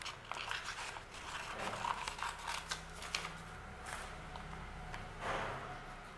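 Scissors snip through paper while a drawing is cut out: quiet, close, irregular crisp cuts and rustling paper with soft handling noise throughout, no talking.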